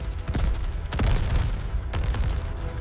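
Gunfire and tank shells in a forest during a 1939 WWII battle against German Panzers: repeated heavy bursts and booms at about one-second intervals over a dense, continuous rumble of combat noise.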